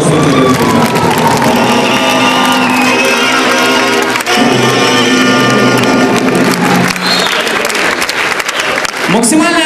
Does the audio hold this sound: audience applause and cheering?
yes